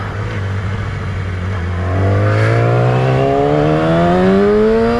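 A motorcycle engine on a hairpin of Italy's Stelvio Pass starts as a steady low drone, then climbs steadily in pitch from about two seconds as revs build. It is loud and close, with no talking.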